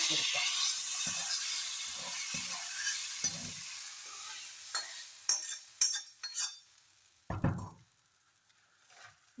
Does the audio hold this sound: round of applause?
no